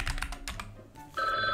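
Electronic telephone ringing tone in the Gartic Phone video game, a bright warbling ring cutting in abruptly after some clicking and muffled sounds, short and fairly loud.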